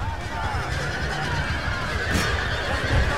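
A horse whinnies in the Empire: Total War battle game with the Darthmod mod, heard amid a loud, continuous din of battle noise and voices.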